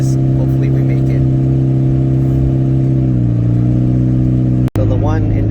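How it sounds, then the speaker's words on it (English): A 2003 Toyota Prius engine with its catalytic converter removed drones loudly and steadily while climbing, the low hum shifting pitch midway as it works under load, with a brief dropout near the end. "you can hear the engine noise a lot more"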